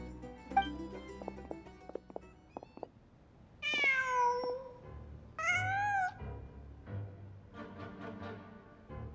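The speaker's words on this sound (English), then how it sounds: "Just a cat." A cat in the video game Genshin Impact gives two clear, drawn-out meows, with softer chirping calls after them, over quiet ambient background and scattered light clicks, and nobody speaking.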